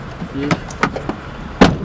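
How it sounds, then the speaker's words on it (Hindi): A car door that fails to close properly thuds shut after a few lighter clicks and knocks, against a low background rumble. "दरवाज़ा सही नहीं बंद हुआ आपका।"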